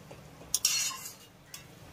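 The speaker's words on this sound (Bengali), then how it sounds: "এবার আমি বেসন আলুর পকোড়াটাকে এই গ্রেভির সঙ্গে একবার ভালো করে মিশিয়ে নেব।" A utensil scrapes and clinks against a pan while besan potato pakoras are mixed into gravy, with a couple of short, sharp metallic strokes among quieter stirring, close and otherwise quiet.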